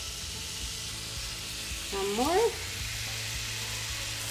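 Chicken shawarma pieces going into olive oil in a skillet, giving a brief burst of sizzling over low steady background hiss, with a short spoken remark nearby.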